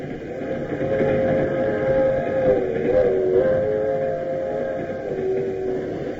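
Continuous rumble of a moving train in a 1950s radio drama, with a sustained, wavering whistle-like tone riding over the steady clatter, fairly loud and close.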